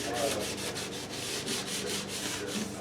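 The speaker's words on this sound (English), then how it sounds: "he ended up doing it by hand without the sanding block, which means sandpaper and hand" Wood sanded by hand with sandpaper and no sanding block: quick, even back-and-forth rasping strokes, about five per second, close and steady throughout.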